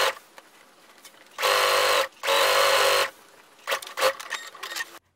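Sewing machine stitching the waistband facing of elastic-waist shorts with a 2.5 cm seam allowance, two close bursts of steady motor buzz about a second each, separated by a short pause and followed by scattered handling clicks.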